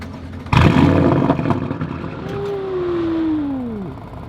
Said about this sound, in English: you just heard the valves open. So that's what it sounds like with the valves open